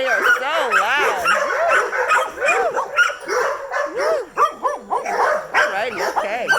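Dogs at a daycare kennel bark, yip and whine nonstop, a loud overlapping chorus of many animals close by.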